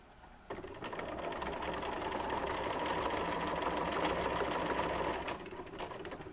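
A sewing machine stitching quilt block pieces together, a rapid, even mechanical whirring that starts abruptly, runs steadily for about five seconds close up, then stops.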